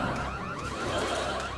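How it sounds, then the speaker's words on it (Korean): An air raid siren sound effect rings out as a loud, steady wailing alarm tone with a wavering pitch, heard alone with no talking for its short length. "여러분 공습경보입니다"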